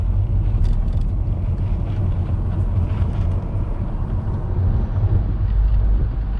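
Steady interior drone of a 2013 Nissan Altima with a CVT transmission cruising normally, a constant low engine and road rumble with some wind noise and no voices.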